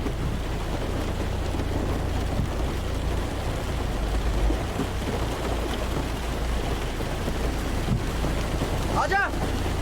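Steady rain falls outdoors as a dense, even hiss close by, with a faint low rumble beneath and a brief squeak near the end.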